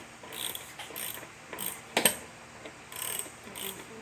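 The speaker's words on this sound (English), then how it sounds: "It's a 1/2-inch socket to get these wheels off." A 1/2-inch socket wrench loosening a wheel on a Lawn-Boy mower with a Tecumseh engine: short runs of crisp ratcheting clicks up close, with a sharper metallic clank partway through.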